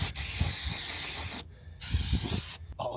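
Brake cleaner sprayed onto engine parts of an abandoned 1970s Chevrolet Nova, a loud, close, continuous hiss broken by two brief pauses, with low clunks and handling noises underneath.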